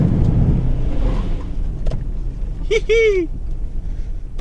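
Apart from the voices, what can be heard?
Toyota Hilux 2.4 D-4D driving on sand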